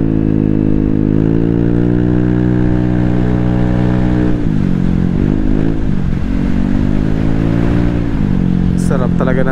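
A 300cc motorcycle engine revving while riding, loud and close with a strong harmonic drone that rises and falls through gear changes and throttle shifts, and a brief voice near the end.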